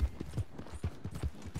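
A horse's hooves clip-clop at a steady walking pace in Red Dead Redemption 2, soft, low thuds repeating evenly over a quiet background.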